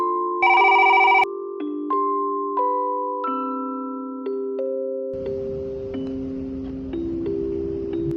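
Phone ringtone playing a melodic sequence of clear electronic tones, loud and close, stepping between pitches with faint background hiss later on.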